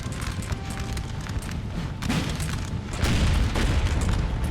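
Artillery batteries firing in Napoleon Total War, a run of deep booms and crackling blasts rolling over one another, growing louder toward the end, with no talking over them.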